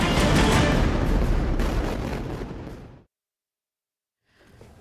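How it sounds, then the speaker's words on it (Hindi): An explosion at night in a war zone near a command center rumbles loudly and broadly, fades over about three seconds into silence, then a faint low rumble returns. "रात को आ रही धमाके की आवाज सुनी जा सकती है"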